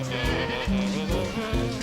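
Male goat bleating at an old horse stable, several short wavering cries in quick succession, close and fairly loud.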